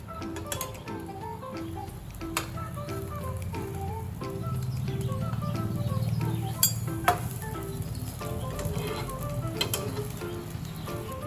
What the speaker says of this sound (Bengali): আমি এবার উল্টো দিক থেকে ডিমের অমলেটটা ঘুরিয়ে এইদিকে আনবো।